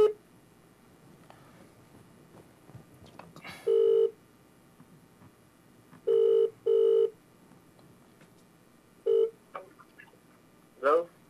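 Steady telephone tones sound after a call is cut off, several short beeping bursts on a quiet line with faint talk in the background.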